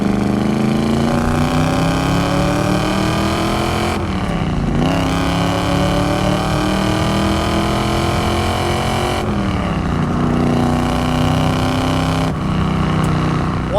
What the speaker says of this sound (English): One of the coolest things about this Z28 is the exhaust note